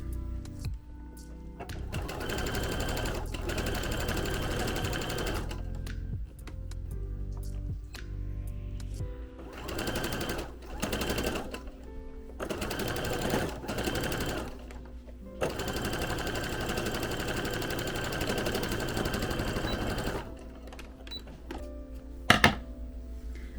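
A sewing machine stitches around a plush fabric circle in long steady whirring runs, stopping briefly between passes, with a short louder knock near the end.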